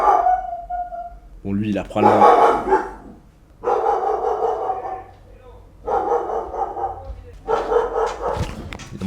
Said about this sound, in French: Il y a mon chien qui gueule